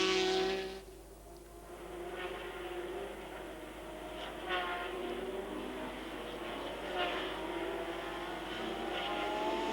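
BMW M1 Procar race cars at Donington Park in 1979 give off a sustained engine drone with shifting pitch as they pass, heard from some distance. Commentary voices run underneath.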